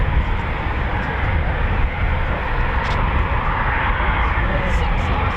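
A Eurofighter Typhoon FGR4 jet takes off at RAF Coningsby, a loud, continuous broadband roar filling the whole stretch, with voices faintly heard beneath it.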